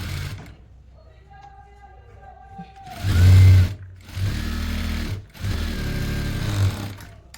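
A sewing machine sews the center seam of a double-folded front piece of a high-low kurti, running in two or three loud, close whirring stretches with brief stops.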